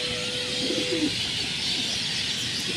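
A Dobaz line Jiriya pigeon gives a short, soft, low coo over steady hissing background noise, close by but faint.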